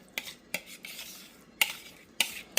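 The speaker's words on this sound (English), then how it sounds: "get a spatula so I could spread the mashed potatoes" A metal spatula scraping and tapping against a pan while spreading mashed baby red potatoes over smoked brisket for a shepherd's pie, with several sharp clinks between softer scrapes, close and with no talk.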